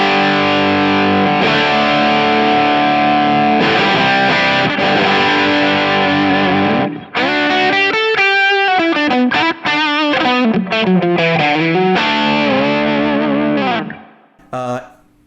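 Electric guitar with a full humbucker pickup played through a Kingsley Jouster drive pedal, loud distorted chords ringing out, then a quicker run of bent single notes and chord stabs before a final short hit and decay.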